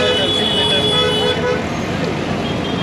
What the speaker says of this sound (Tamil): ஹெவி டிராஃபிக் ஏரியாவாக போகிறோம், பம்பர் டு பம்பர் டிராஃபிக்கில் போகிறோம்